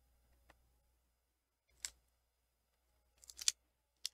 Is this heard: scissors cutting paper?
yes